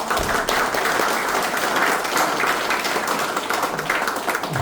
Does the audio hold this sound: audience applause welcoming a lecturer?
yes